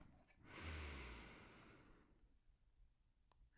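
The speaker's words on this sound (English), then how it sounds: "Let's take a breath together." A slow, deep inhale through the nose swells and then fades over a few seconds, soft and close in a quiet room.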